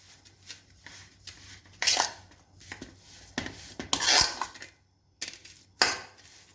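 A spoon mixes a potato filling with garam masala and brown sugar in a bowl. Quiet, irregular scraping and rubbing strokes come in separate bursts with short pauses between them.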